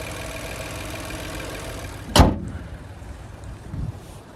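Chevrolet TrailBlazer 1.3-liter turbocharged three-cylinder engine idling with the hood open, a steady low mechanical hum broken by one brief loud thump partway through.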